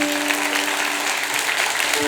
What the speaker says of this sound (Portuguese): vamos dar uma grandiosa salva de palmas para quem está em casa nos acompanhando